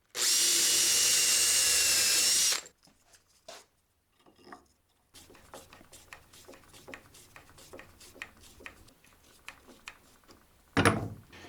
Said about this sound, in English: I want to drill out the hole for a hanger bolt below that